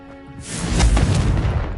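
Bombarda blasting spell going off in the Hogwarts Legacy game: a loud booming explosion swells up after a quiet start and stays as a dense, rumbling crash to the end.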